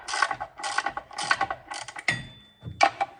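Bursts of quick metallic ratchet clicking as transmission bolts are tightened on a 450hp drift car during a clutch rebuild, close and fairly loud, with short pauses and a couple of clunks between runs.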